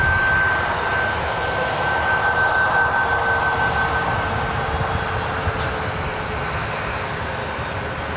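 A United Airlines Boeing 737 MAX 9 jet rolls at San Francisco International Airport, a broad steady engine roar with a faint whine that eases slightly toward the end, no talk over it.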